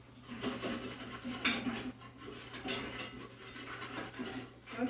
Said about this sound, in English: scraping the bottom. Getting all the flavorings from the bottom, scraping it, moving it around